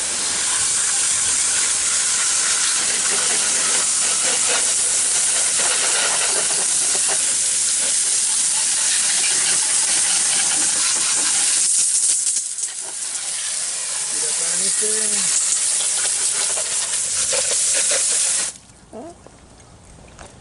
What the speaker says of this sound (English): So I got the water on, and let's see if we can't rinse this thing off.